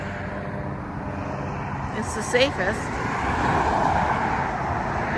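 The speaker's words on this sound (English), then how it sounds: "It's a lot of traffic." Busy street traffic at the crossing of Silver Springs Blvd and Fort King Street, a steady wash of engine and tire noise with cars passing nearby and a short horn-like blip, while people talk over it.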